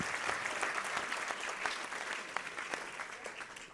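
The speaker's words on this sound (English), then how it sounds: "Well done, Team Tassie, and please keep the applause going, and thank Andrew Denford as well for being" Sustained audience applause at the 2020 F1 in Schools Australian National Final awards event, a steady dense wash of many hands clapping, fairly loud and even throughout with no talk over it.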